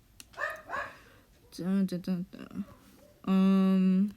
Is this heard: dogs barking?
yes